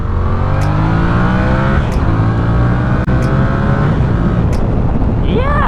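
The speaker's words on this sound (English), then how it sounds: "you can feel the bike accelerating" A Yamaha R7 sport motorcycle accelerating, with loud, close engine drone and rising pitch sustained throughout, mixed with rushing wind.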